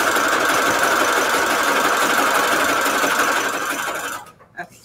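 A sewing machine stitches around envelopes made from book pages, a loud, steady mechanical whir that runs continuously before stopping, followed by a brief knock.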